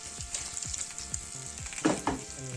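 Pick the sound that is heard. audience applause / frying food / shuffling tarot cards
frying food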